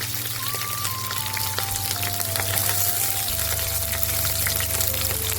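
Green chilies hit a pan of golden garlic frying in oil, giving a close, steady crackling sizzle full of dense popping spatters that holds for several seconds under a low background hum.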